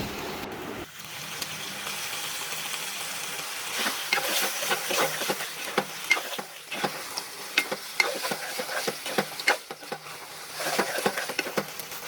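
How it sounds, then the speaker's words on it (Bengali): A hilsa fish head fries in a pan and is stirred repeatedly. A steady sizzle runs under sharp scraping clicks from the utensil, growing busier as stirring continues. "তারপর ইলিশ মাছের মাথাটা দিয়ে দিব একটু ভালোভাবে নেড়ে চেড়ে নেব"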